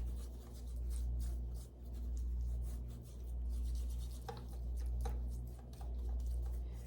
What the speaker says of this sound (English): And I'm going to rub them in.